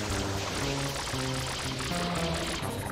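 Water spraying from a nozzle in a Super Mario 3D platform game, heard as a steady, loud rushing pour throughout, with game music tones layered over it.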